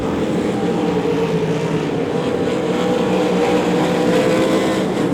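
Race cars circling a speedway oval in a weekly championship race, a dense continuous engine roar without breaks, loud and sustained as the pack passes.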